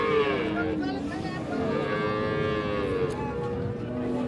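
Friesian cow lowing at a busy cattle market, a long, wavering moo rising and falling over steady crowd murmur, fairly close.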